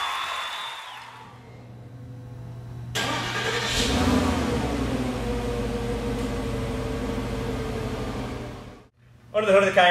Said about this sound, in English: Now, this is a twin turbocharged V8 engine.